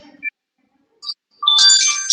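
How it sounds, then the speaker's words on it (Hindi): A telephone ringtone starts with a few short beeps and then rings out loudly and continuously as a bright electronic melody, heard alone without talk. "बाबर भाई का बज रहा है क्या? Telephone sir."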